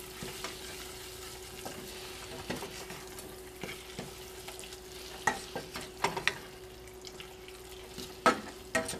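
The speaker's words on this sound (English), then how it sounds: "let's stir all this together" A chili mixture with raisins and cayenne is stirred in a pot, with soft bubbling and a low sizzle under irregular spoon scrapes and clunks that grow louder toward the end, close and without speech.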